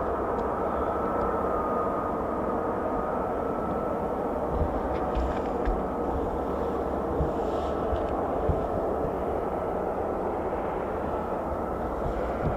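An F-35B stealth fighter jet of 809 Naval Air Squadron roars with a continuous, loud, broad engine rumble that holds steady throughout, outdoors with no talking.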